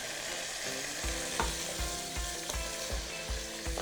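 Onions, garlic, capers and olives sizzle and crackle steadily in chicken pan drippings in a hot pan, with a utensil scraping and tapping in a regular rhythm as it is stirred.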